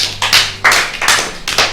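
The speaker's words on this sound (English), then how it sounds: "Let's clap for her." Schoolchildren clap for a classmate in bursts of loud, close, rapid clapping, with brief pauses between waves of hands and no talking.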